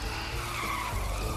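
Car tires skidding in a car-stealing video game, a continuous screeching squeal over low engine rumble, loud and steady for about a second with no talk.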